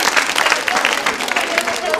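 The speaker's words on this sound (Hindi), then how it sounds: "तालियां जोरों से बजाइए इनके लिए" Brief burst of lively audience clapping for a quiz contestant at a Holi quiz show held at a girls' B.Ed college, a dense continuous round of applause close by.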